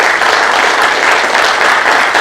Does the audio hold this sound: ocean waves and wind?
no